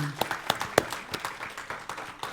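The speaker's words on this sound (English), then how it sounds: "Put another round of applause for the kids." A church congregation at a Sunday service claps for the children, a thin scattering of distinct individual claps with a few louder sharp hits, fairly sparse and modest in level.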